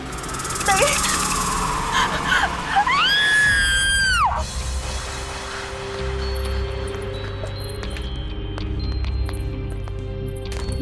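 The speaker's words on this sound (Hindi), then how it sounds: "फिर ये चीख।" A woman's long, piercing scream in a horror drama, rising and wavering over several seconds, loud and close, followed by a tense low ambient drone.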